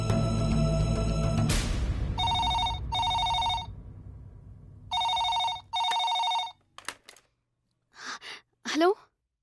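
A telephone ringing in repeated electronic double bursts with pauses between, followed by faint distorted sounds on the line.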